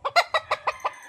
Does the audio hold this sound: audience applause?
no